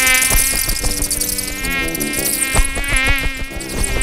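Two mosquitoes buzz loudly in a 3D cartoon, their high whining drone steady and close for the whole few seconds, with light cartoon sound effects over the buzz.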